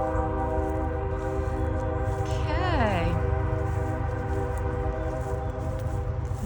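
A train runs on nearby tracks through Brunswick, with a steady low rumble and a horn-like tone that rises and bends for about a second midway. Other sounds around it are faint.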